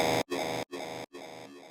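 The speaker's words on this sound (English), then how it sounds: "I'm using this growl that's kind of sounding like a YOI bass." A gritty, harmonically dense Serum synth growl bass in riddim dubstep style plays in three loud, choppy bursts separated by short silent gaps, with no voices.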